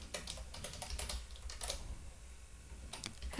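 Computer keyboard typing Python code, a close burst of rapid key clicks, then a short pause and a few more taps, with no speech.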